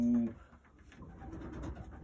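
Low, soft pigeon coos are heard briefly at the start, followed by a faint rustling, scratching background without clear voices.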